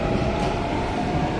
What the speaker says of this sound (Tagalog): Antay ako ng tren.